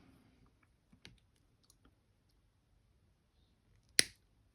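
A single sharp snip of wire cutters trimming the tail of a wire-wrapped swan pendant, close and crisp, with a few faint clicks and taps beforehand in an otherwise quiet room.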